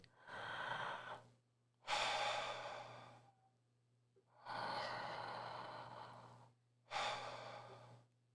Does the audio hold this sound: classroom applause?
no